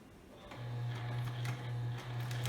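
A sewing machine runs close by as it sews a back stitch on fabric, a steady buzzing hum with rapid ticking that stops briefly partway through before starting again.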